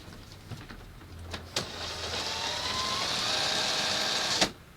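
An FMS FCX10 Camel Trophy RC crawler runs its drivetrain in low gear with a straight axle fitted, giving a thin, steady electric motor whir that stays fairly quiet, broken by a few sharp clicks near the start and end.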